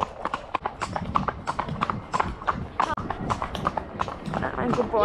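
Horse hooves clip-clop in a quick, steady rhythm on a hack out with a friend, close and continuous, with a rider talking over the footfalls throughout.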